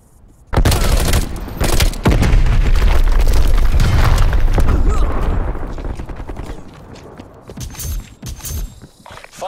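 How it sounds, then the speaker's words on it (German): Grenade blast and gunfire in Call of Duty Black Ops Cold War multiplayer: a loud boom hits early and rumbles for several seconds, followed by scattered shots and impacts fading into quieter battle noise, with game voice lines mixed in. "Granate ist raus!"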